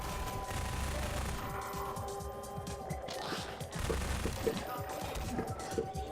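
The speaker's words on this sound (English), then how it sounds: "Shooting barrels." Rapid gunfire in Half-Life 2 as barrels are shot, a dense, continuous crackle of shots at moderate loudness running under game sounds throughout.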